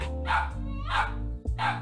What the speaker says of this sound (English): now she's just barking in general.